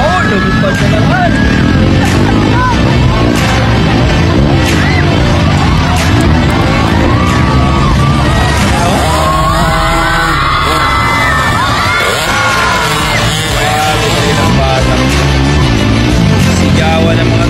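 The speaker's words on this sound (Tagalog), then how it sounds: "Sigawan ng mga tao sa kanya eh." Spectators at a motocross race roar and shout continuously, a dense, loud crowd din with whoops and cheers rising over it, while motorcycle engines buzz faintly underneath and a child's rider jumps draw louder bursts.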